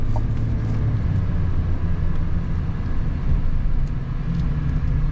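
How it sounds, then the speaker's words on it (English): Diesel engine of a 2022 GMC Sierra 1500 AT4 pickup truck gives a steady, loud, low rumble with no breaks or talk. "Torquey diesel, that's for sure."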